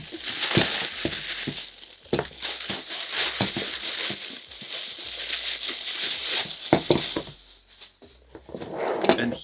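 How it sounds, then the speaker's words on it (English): Crinkly plastic rustles and crackles in repeated bursts as a plastic bag holding Nike Mercurial Vapor 16 football boots is handled and pulled open, close by, with brief pauses between. "just comes in this kind of plastic bag. Open this up."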